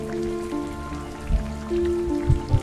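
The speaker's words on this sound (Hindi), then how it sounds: "इस बारिश को अपने ऊपर आते रहने दें" Steady rain falls continuously under a soft, sustained tonal drone, with a few dull drops landing near the end.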